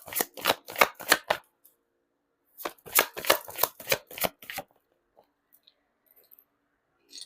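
Tarot cards being shuffled in two close, crisp bursts of rapid flicking riffles separated by a short pause, followed by near silence with a few faint clicks.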